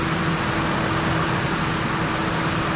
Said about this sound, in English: The electric fan kicked on because the engine's still warm.